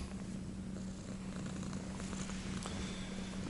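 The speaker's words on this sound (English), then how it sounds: "So here we have Sugar, my friend's cat, or actually my friend's son's cat" A cat purrs close by in a quiet room, a steady low rumbling purr running without a break.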